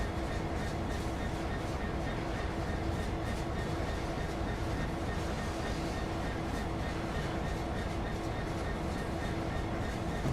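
A Class 323 electric train runs on the Cross City line in the Train Sim World 3 video game, giving a steady, unbroken rumble that stays at an even, fairly loud level throughout.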